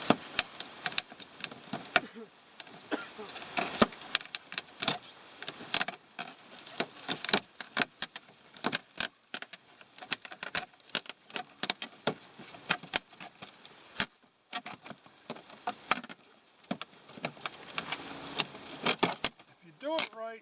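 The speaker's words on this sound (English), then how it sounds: "If you do it right, it zips right in." Vinyl siding panels being zipped together with a hand zip tool, producing rapid, irregular snapping clicks and plastic rattles in dense bursts, with a few short pauses along the way.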